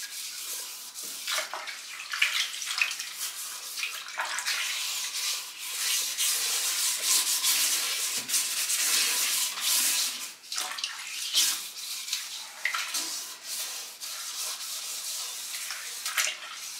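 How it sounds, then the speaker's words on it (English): A drywall sanding screen scrubs a moldy toilet bowl in steady, harsh rasping strokes with wet swishing, continuous and close, with brief pauses between passes. "Now I'm just going to take the drywall screen"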